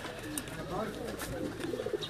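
Soft, low cooing comes from a Teddy breed pigeon, a Kasuri-Lahori type, on a rooftop in Sialkot. A couple of brief murmured phrases sit over light background noise, with a voice faintly present.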